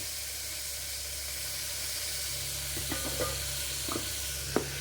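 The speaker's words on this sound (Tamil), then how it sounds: "தக்காளி போட்டிருக்கேன், கருவேப்பிலை, கொஞ்சம் நல்லா இதாகணும்." Tomatoes, small onions and curry leaves sizzling in hot oil in a pan, a soft continuous hiss with a few faint clicks and pops near the end and no voices.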